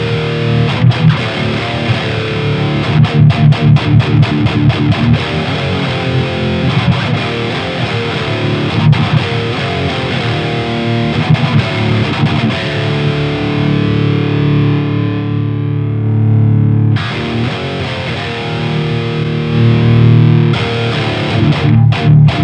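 A Bogner Uber Ultra guitar amplifier roars with heavily distorted playing, mixing chugging rhythmic chords and sustained notes at loud volume, with a brief choked pause before the riffing resumes.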